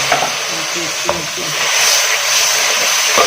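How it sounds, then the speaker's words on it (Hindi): Water is poured into a pan of frying aloo gobhi masala, setting off a loud, close, steady sizzle and hiss that lasts the whole stretch, with faint stirring clinks under it. "उसके बाद थोड़ा सा उसके अंदर पानी डालेंगे"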